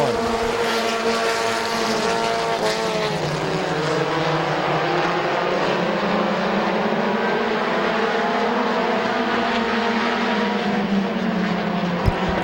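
Race cars roar around the Midvale Speedway oval in a dense, continuous engine drone, with rising and falling pitch as the pack runs side by side through the turns, steady and loud throughout.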